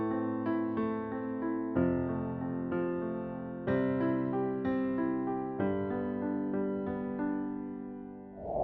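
Piano arpeggios moving through a chord progression, the left hand holding open fifths beneath rolling broken chords; a steady, sustained pattern of notes played alone and fairly close, with no talking.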